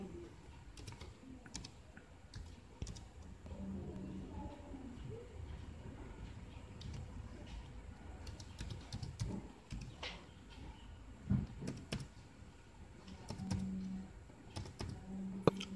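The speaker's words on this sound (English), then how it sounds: "I'll type here my home SSID. And my password." Someone types a home network name and password on a computer keyboard: faint, irregular key clicks in short bursts over a quiet room hum, with a few louder taps and no voices.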